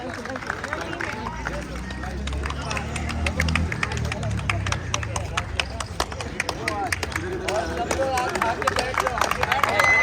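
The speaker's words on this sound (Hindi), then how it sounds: "तालियां रुकनी नहीं चाहिए।" A crowd at a prize distribution ceremony claps steadily without a break, a dense patter of applause that builds slightly toward the end, with voices underneath.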